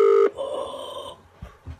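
A telephone line during a call to an energy company gives a short steady tone, then a sustained electronic ringing or hold signal, ending with a few faint clicks.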